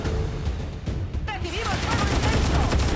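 Gunfire in the video game XCOM Long War 2 sounds as a rapid fusillade of shots mixed with other game effects, loud and continuous across the moment.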